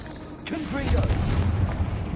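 Fire-spell blast cast in Hogwarts Legacy on PS5, a heavy rumbling burst with a booming low roar that swells and lingers for a couple of seconds, a faint voice underneath.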